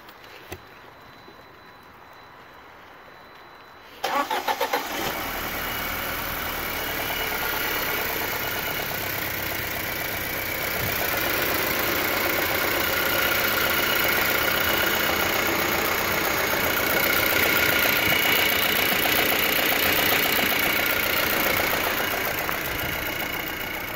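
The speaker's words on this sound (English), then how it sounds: "fire it up, see if there's any leaks" A 2005-2008 Audi A4 engine cranks and fires after a quiet start, then settles into a steady, loud idle with a faint ticking rhythm, heard close in a garage.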